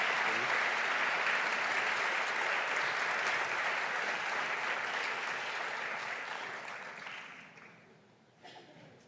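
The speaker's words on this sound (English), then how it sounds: "So please, a warm round of applause for Tom." Applause from a conference audience after a keynote at a marine science meeting, a dense, steady wash of clapping that holds strong for several seconds, then thins and fades out near the end.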